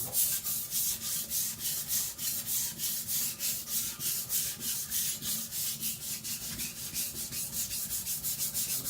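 A cleaver from IKEA, Chinese style, is pushed back and forth across a coarse whetstone, making steady rhythmic gritty rasping strokes, about three per second, close and even, with no talk.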